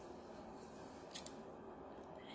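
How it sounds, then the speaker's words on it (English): A short, crisp snip of scissors slicing through a paper seed packet, one quick cut against a faint, steady background hiss. "So I'm going to take my scissors"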